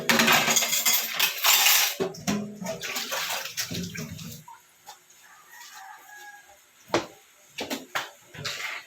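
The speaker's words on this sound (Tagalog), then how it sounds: "maghugas muna tayo ng plato" Dishes being washed: running water and clattering plates up close at first, then scattered clinks and knocks, with a rooster crowing and hens clucking in the background.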